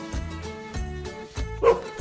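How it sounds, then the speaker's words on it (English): A golden retriever dog barks in three or four separate woofs spread across a couple of seconds, close and moderately loud with no other sounds around them. "Golden retriever. It's a dog."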